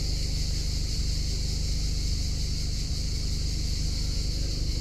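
A Peugeot 208 engine with a fault idles steadily while a diagnostic scan runs. A constant, even drone with a low rumble and a high-pitched whine holds unchanged throughout, close and fairly loud.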